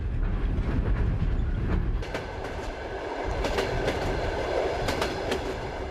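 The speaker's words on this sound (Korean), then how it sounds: "여섯 번째 도시를 향해 열차는 20시간을 넘게 달리고 있다." A Trans-Siberian train rolls steadily along the rails, a continuous rumble with rhythmic clickety-clack wheel beats and faint high squeals, close and constant throughout.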